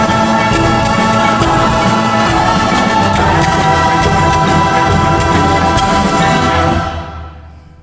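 An orchestral arrangement of a rock song plays loud and dense with full ensemble, rhythmic accents throughout, then fades out in the final second.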